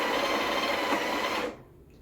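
A Breville Barista Express BES870 espresso machine grinds coffee with a loud, close, continuous whirring buzz that stops abruptly near the end, leaving quiet room tone.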